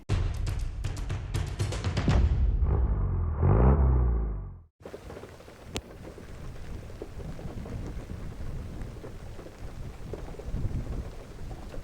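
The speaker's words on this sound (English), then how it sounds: "Things started out looking a little bit like this: pouring rain, Boris with the awning out, and us sheltering away from the monsoon." Heavy rain pours steadily on a camp in the Lake District beside a Land Rover Defender with its awning out, a loud, dense wash throughout; the first seconds carry a deeper, rumbling burst of rain before a sharp cut to a constant, closer downpour.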